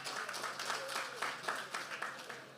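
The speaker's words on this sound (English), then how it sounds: "Make her feel welcome and give a round of applause" An audience at the Grand Bay Youth Link Up applauds to welcome the Minister of Youth, a steady, moderately faint wash of many hands clapping that continues throughout with a few voices mixed in.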